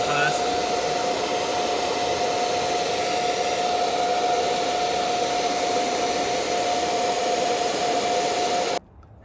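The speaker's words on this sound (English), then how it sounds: "we're using a hair blower for this" A hair dryer blows hot air onto the plastic rear fender of an Aprilia RS660 motorcycle, a steady loud whirring hiss with a thin tonal whine that runs unbroken, then cuts off abruptly near the end.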